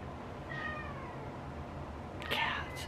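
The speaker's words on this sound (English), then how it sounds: "Cats." A house cat meows faintly twice, a soft drawn-out mew early on and a slightly louder one near the end, over steady room hiss in a home setting.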